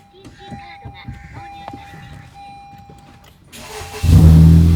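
Quiet ambient chatter and background sounds, then a totaled Honda Civic Type R's engine cranks and catches, bursting into a loud, steady idle near the end.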